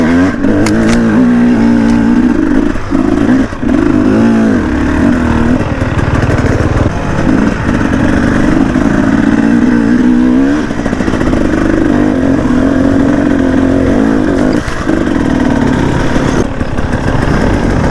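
A KTM 300 two-stroke enduro motorcycle ridden raw through forest hills: loud, close, constantly revving engine with rising and falling pitch as the throttle works over roots and climbs, no speech.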